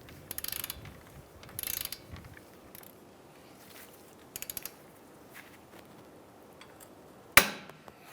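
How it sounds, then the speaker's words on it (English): A wrench torques strut bolts on a 2007-2015 Mazda CX-9 suspension, giving short bursts of rapid ratchet clicks in several separate runs, then a sharp metallic clank near the end, with quiet pauses between. "We're going to back up the nut side with the wrench, and we're going to torque these down to"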